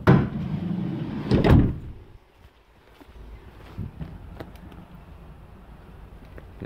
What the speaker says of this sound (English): it has a sliding door. Which locks into position.